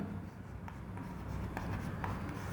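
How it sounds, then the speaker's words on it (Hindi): An equation is written by hand for a differential equations maths lesson, with a continuous soft scratch of pen or chalk strokes, faint and close, and no talking over it. "तो लिखेंगे इक्वेशन"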